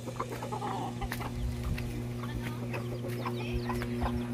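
Chickens roaming a rural Philippine yard cluck in scattered short bursts, soft and somewhat distant, over a steady low hum of background noise.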